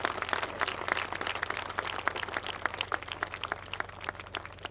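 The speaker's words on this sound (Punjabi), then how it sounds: "ਫਿਰ ਜ਼ੋਰ ਦੀ ਤਾੜੀ ਮਾਰ ਕੇ ਪਰਮੇਸ਼ਰ ਤੋਂ ਮੰਗੋ" A congregation clapping at a church Christmas celebration, faint rhythmic hand claps repeating quickly and evenly over a low background hum.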